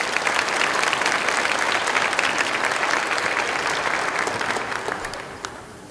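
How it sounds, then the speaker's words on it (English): An audience at an elementary school sixth-grade promotion ceremony gives the students a full round of applause, many hands clapping densely and loudly before tapering off toward the end. "Please give all these students a round of applause."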